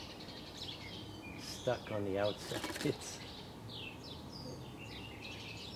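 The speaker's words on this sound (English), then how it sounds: "It's a regular sparrow." A common sparrow in a rescue chirps in short tweets and scratches or kicks its feet against a surface. A person speaks briefly over the faint, close scuffling and calls.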